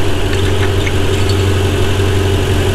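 Ferrari 488 engine idling steadily while fully warmed up, a close, even low rumble with a constant hum and slight vibration, no speech.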